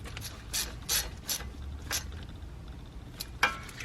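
Ratchet clicking as a 10mm bolt is snugged down on a 2013-2017 Mazda CX-5 front ABS wheel speed sensor, several short bursts of close, crisp pawl clicks with pauses between strokes.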